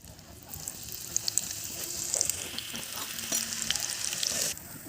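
Onions hit hot oil already tempered with garam masala, giving a loud, steady sizzle in a pan with occasional faint clinks. The sizzle drops off near the end.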